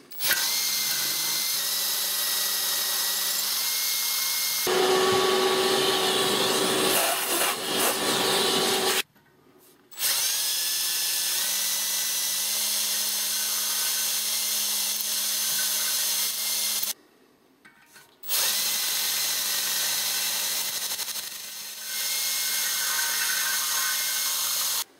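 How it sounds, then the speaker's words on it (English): A power drill bores holes into newly fitted Babbitt bearings in a crankshaft main bearing, whining steadily in close, loud runs that shift pitch as it bites, with two brief pauses between bursts. "to drill into this nice newly fitted Babbitt"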